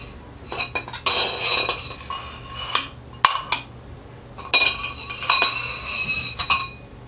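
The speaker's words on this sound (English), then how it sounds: "You want to unscrew that and pull the cartridge out." Metal clinks and scraping as a Showa fork cap is unscrewed and the cartridge pulled out on a CR 250, close sharp metallic taps and rattles in bursts with a few louder knocks, no talking.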